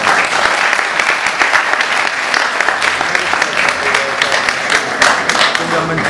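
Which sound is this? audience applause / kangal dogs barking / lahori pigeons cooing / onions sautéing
audience applause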